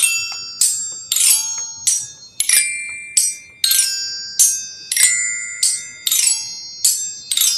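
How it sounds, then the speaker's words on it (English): A Zildjian bell is struck repeatedly in a quick, uneven pattern, each bright metallic ring decaying before the next hit, close and loud with no talking. "playing with the xylophone and the zildjian bell."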